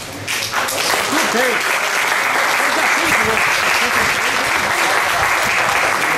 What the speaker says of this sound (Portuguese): eu quero solicitar aos senhores uma salva de palmas do povo de São João del Rei